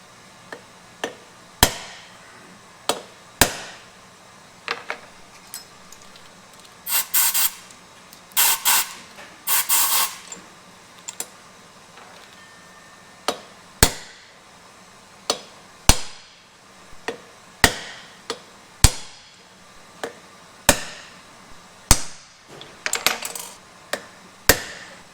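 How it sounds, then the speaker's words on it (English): Sharp metallic hammer blows ring out one at a time on a driver, seating new valve seats into a '68 Firebird 350 cylinder head, with brief bursts of compressed air between the strikes. "Now to drive in our seats, we put a pilot in the valve guide, and then we have a driver that goes over that"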